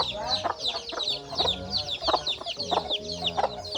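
Hens cluck repeatedly in short bursts while chicks peep continuously and high-pitched in the background, all close and fairly loud.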